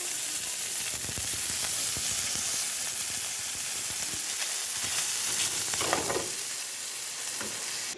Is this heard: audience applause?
no